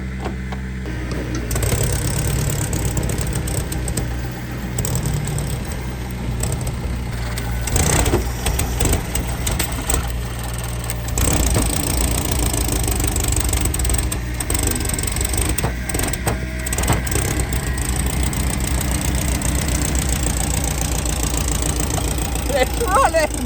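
The air-cooled engine of a 1970s VW sand rail cranks, catches and keeps running with a rough, rattly idle, close and loud, while people talk and shout over it.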